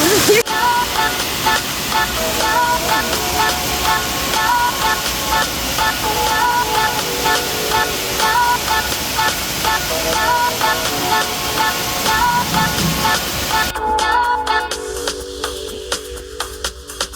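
A waterfall in Murang'a County, heard on a hike, pours as a loud, steady broadband rush that fills the scene, then cuts to a quieter, thinner hiss near the end.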